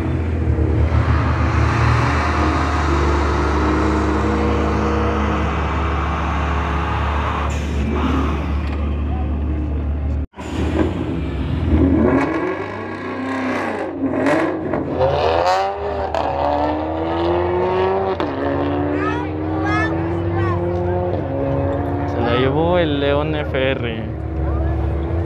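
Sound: drag racing cars accelerating, red Mustang GT

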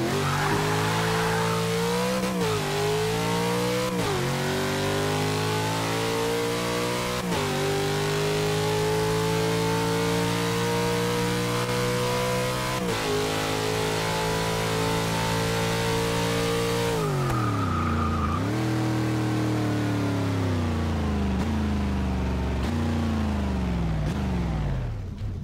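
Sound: car engine revving while drifting in Forza Motorsport 6 video game

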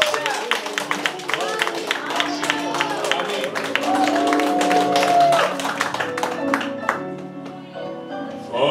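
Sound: congregation applauding the priest

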